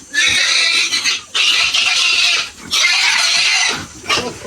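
A pig squealing loudly while being handled for a roast on a family birthday weekend, with long, harsh, piercing squeals in three or four sustained bursts and short gaps between them, close and dominant.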